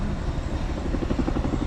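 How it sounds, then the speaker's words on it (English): A helicopter flies overhead in Hawaii, its rotor chopping in a steady, rhythmic thump at moderate distance under a constant engine whine, with no voices. "yeah, the helicopter."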